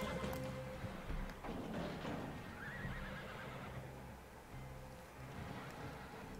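A horse in the video game Red Dead Online whinnies, with a couple of sharp neighs early on over a low, steady game ambience and occasional hoof-like clops.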